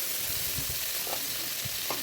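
Tomato paste frying in a little oil in a kadai, a faint steady hiss with soft scraping stir sounds and occasional low knocks, quiet and close.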